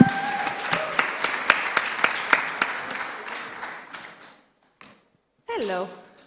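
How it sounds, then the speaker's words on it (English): Audience applause on a conference summit stage: a burst of claps with sharp individual slaps rising and then thinning out, fading to near silence before a voice comes in at the end. "Big applause, Stéphane."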